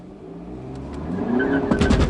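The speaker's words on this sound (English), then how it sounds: "What we do need to do is a quick 0 to 60 test. Straight bit of road. I'm in sport." VW Passat 2.0L Blue Motion in sport mode accelerating hard from a standstill on a straight road, the engine note rising steadily from inside the car and growing louder toward the end.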